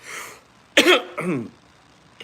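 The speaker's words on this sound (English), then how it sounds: "I got a good old American cough right now." A person coughs a few times up close: a breathy rasp, then two harsh throaty coughs, ending with a brief faint sound.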